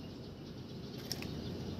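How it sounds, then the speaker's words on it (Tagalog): Birds take flight outdoors on a sunny morning, a soft, brief flutter of flapping wings over faint background ambience. "At milipad yung mga ibon."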